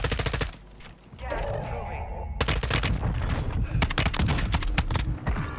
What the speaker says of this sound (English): Shotgun for the win!